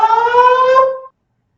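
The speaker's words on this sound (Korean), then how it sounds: "오늘 이 건물에 소방 점검을 한다고 이 사이렌 소리가 가끔 들립니다" An indoor building fire siren sounds during a fire safety inspection, a steady loud wailing alarm tone with strong harmonics that holds for about a second and then stops abruptly, leaving silence.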